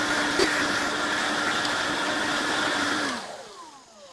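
A Greenworks 60V brushless backpack leaf blower roars steadily while clearing a thick layer of leaves off a trail, then winds down and fades out.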